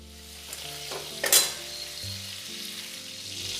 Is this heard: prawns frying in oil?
yes